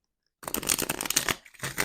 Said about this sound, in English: Now going to be doing the shuffles.